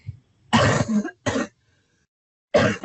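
A person clears their throat and coughs in a few short, harsh bursts close by, separated by brief silences.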